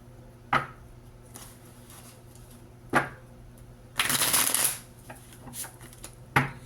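Tarot cards being shuffled and cut, with a few sharp riffling bursts and a longer dense flutter of cards, close and fairly loud against a quiet background.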